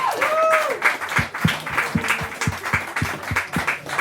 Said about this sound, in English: another round of applause for Emma Louise Smith